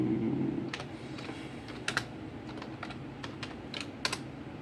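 Computer keyboard typing, a scattering of separate key clicks, some in quick pairs, over a steady low room hum and faint background noise.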